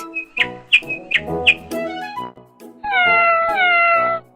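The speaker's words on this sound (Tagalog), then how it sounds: "Tunog ng pusa. Meow," A few quick high chirps give way to a cat's drawn-out, wavering meows, close and clear.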